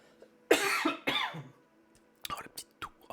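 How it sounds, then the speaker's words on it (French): Two short, soft coughs from a host during a quiet French ASMR live reading, close to the microphone, followed by faint breathy mouth sounds and low whispering. "Oh la petite toux"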